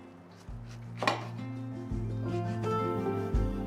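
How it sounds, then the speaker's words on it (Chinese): A knife cuts soaked, rinsed bamboo shoot strips into short lengths on a board, giving a few sparse, soft thuds under steady background music. "那我们把它切成段。"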